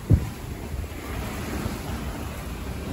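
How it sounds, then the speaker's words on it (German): Steady wind roars across the microphone while waves wash past a sailboat in the Greek Cyclades, a continuous broad rushing with one thump at the start. "Und es geht windig und wellig weiter."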